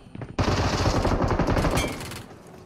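A rapid burst of automatic gunfire from a weapon in the video game PUBG, loud and close, the rattling shots running for about two seconds before tapering off.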